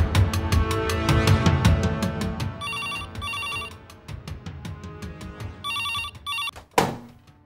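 A telephone rings in repeated bursts after a call is placed, with bright trilling rings over background music, followed by a click as the line picks up.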